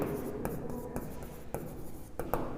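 Pen strokes scratch out a geometry proof on paper or board, a series of short, faint, irregular scratches at close range over a quiet background; no speech.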